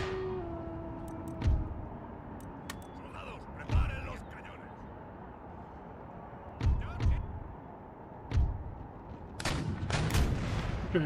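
Cannon artillery fire on a battlefield in the strategy game Empire: Total War, heard as several distant booming shots spaced a few seconds apart over a steady rumbling battle ambience, with a denser cluster of blasts near the end.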